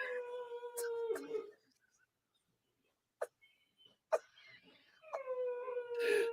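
A dog howls and whines in long, tonal wails, first a drawn-out moan, a pause with a few short yelps, then another sustained howl, fairly close and clear.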